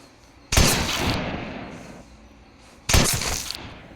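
Two loud gunshots ring out in the Granny horror video game, a couple of seconds apart. Each is a sharp, close blast with a decaying tail, and no one talks over them.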